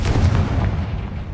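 A Confringo blasting spell explodes in the Hogwarts Legacy video game, a loud, deep booming burst with a rumbling low tail that fades over a second or so, heard alone without voices.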